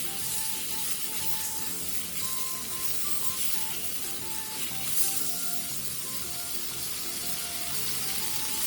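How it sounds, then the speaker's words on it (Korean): Onions being stir-fried with seasoning in a pot for a spicy stew, a soft continuous sizzle and hiss with faint stirring scrapes underneath, fairly quiet and steady. "그 다음 양파를 넣고 양념과 어우러질 정도로만 볶아주세요."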